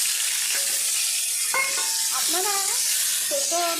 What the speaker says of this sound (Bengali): দিয়ে আমি সেদ্ধ করা আলু রেখেছি সেটা ভেজে নিচ্ছি